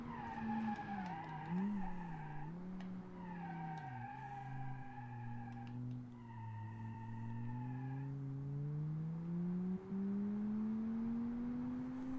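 Car tires squealing through a downhill corner with heavy understeer in BeamNG: a sustained, wavering tonal screech with rising and falling pitch, close and prominent, running nearly the whole time without talk.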